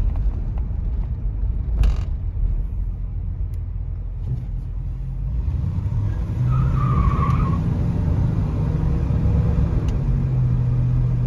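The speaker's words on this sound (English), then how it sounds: "Hear some tire squeal though." A 1975 Oldsmobile Delta 88 Royale coupe with a 455 V8 rumbles low from inside the cabin, then its tires squeal in a brief, moderately loud chirp during a drive.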